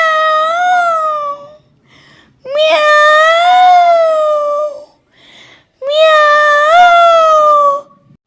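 A human voice imitates a cat's meow three times, each a long, loud, close, whining mew separated by short pauses, with no other talk.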